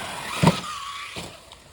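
A Traxxas Slash 4x4 RC car with a Hobbywing electric system jumps. One sharp thump from the landing is followed by a brief high motor whine and a second, softer impact, all close by.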